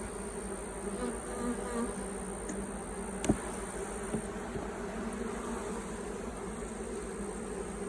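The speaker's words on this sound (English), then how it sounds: "The bees are really calm today." Honey bees hum in a steady, dense buzz around an opened beehive during hive splitting, close and continuous, with a few faint knocks from handling the frames.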